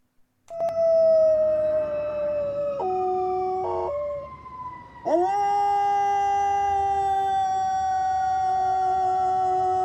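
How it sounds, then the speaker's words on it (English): A long, wavering howl rises and glides between pitches, layered over a siren-like tone, with a brief stepped warble midway before settling into a steady, sustained wail that carries on loudly to the end; no talking. "You get the Keeper Howl, brother."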